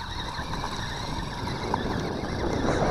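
An Xspeed Glory 1:16 scale 4x4 RC rock crawler drives around over rocks, its small electric motor giving a steady, close whirring drone with gravelly crunches and no break throughout.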